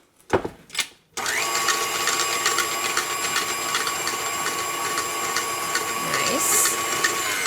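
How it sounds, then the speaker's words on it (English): Blender running steadily on a vegan chocolate mixture, a continuous whirring motor drone that starts abruptly after a couple of brief knocks and holds at an even, fairly loud level to the end. "That looks like it's getting blended pretty well."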